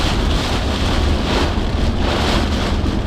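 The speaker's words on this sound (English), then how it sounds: "Getting a bit windier." Strong wind during a tornado chase storm buffets the microphone in a loud, continuous rushing roar with gusty swells and no voices.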